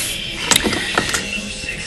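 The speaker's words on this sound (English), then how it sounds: "I'm hoping that's the sound of the flapper" The wastegate flapper on an Audi A4 1.8T AEB engine clicks and rattles as compressed air is applied, giving a few sharp metallic ticks over a steady airy hiss.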